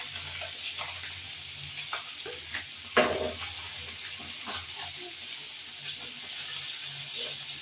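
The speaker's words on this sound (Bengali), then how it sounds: "এবার মাছটা এই ভেজে উল্টে দেবো" Fish frying in oil in a pan gives a steady, low sizzle with scattered crackles and one sharp clatter partway through.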